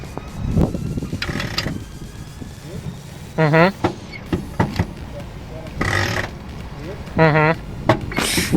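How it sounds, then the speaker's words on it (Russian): The handbrake lever of a 2008 Hyundai Tucson AWD 2.0 petrol, with the rear brake mechanism exposed, is pulled repeatedly, giving loud ratcheting creaks in separate bursts between mechanical clunks, with people talking nearby. "я подергаю ручник, чтобы было видно, как он работает"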